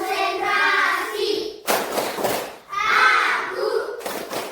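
Schoolchildren in a classroom chant a concentration clapping routine together, their voices alternating with bursts of sharp group claps in a steady rhythm.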